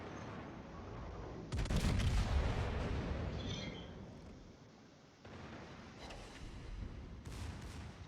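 Secondary naval guns on the battleship Prinz Heinrich fire in World of Warships, giving a sequence of heavy booming shots with rumbling decay, loud and fairly close, with no voices.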